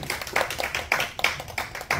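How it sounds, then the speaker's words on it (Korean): Audience at a school ceremony claps in a sparse, uneven rhythm, several distinct hand claps spaced across a couple of seconds, fairly close and with no voices over them. "박수 한번 맞아주시죠"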